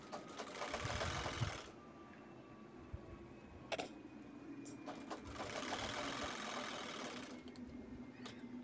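Sewing machine stitching a tote bag (shoulder bag), running in two bursts of steady whirring separated by a quieter pause, close and moderately loud with no talk.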